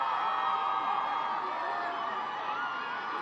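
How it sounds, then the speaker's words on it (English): A crowd cheers and whoops for the Kolisi family at an outdoor Springboks Rugby World Cup celebration in Cape Town, a steady, distant roar of many voices lasting throughout. "And again, cheers from the crowd."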